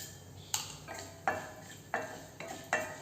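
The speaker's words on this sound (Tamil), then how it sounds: "எண்ணெய் காஞ்சதும் கொஞ்சம் கடுகு சேர்த்துக்கலாங்க, சீரகம் கொஞ்சம் சேர்த்துக்கலாங்க" Mustard seeds, cumin and lentils temper in hot coconut oil in a pan for a sprouted moong rice lunch, with soft sizzling under a series of four or five clear metallic stirring clinks and scrapes at a steady rhythm.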